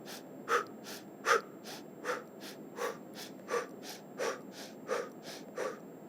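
A woman demonstrates quick labour breathing with about nine short, sharp inhalations in a steady rhythm, close and fairly quiet, with no talking.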